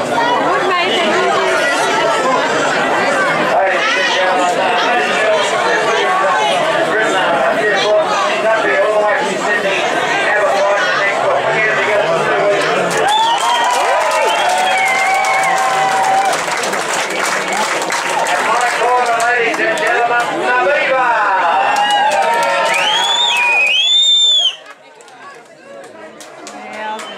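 A boxing crowd at a fight night fills the space with dense, loud chatter and cheering that rises in bursts, with some clapping mixed in, before cutting off abruptly near the end.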